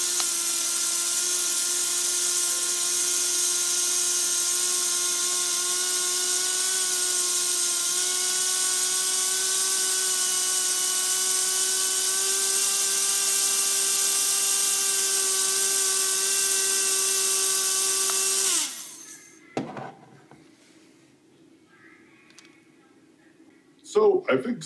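A Tamiya Mini 4WD motor spinning on an RPM checker, with a steady high-pitched whine and buzz held for about eighteen seconds before it stops abruptly, followed by a few clicks and handling noises.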